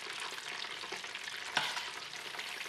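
Chips frying in hot oil in a home kitchen in Cornwall, a steady dense sizzle with gentle stirring and a brief louder burst midway, no voices.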